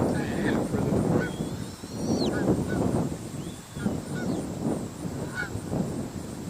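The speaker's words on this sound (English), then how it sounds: "Canada geese are coming in." Canada geese honk repeatedly as they fly in, a loose run of clear calls spread across several seconds over a steady outdoor background, moderately close and fairly loud.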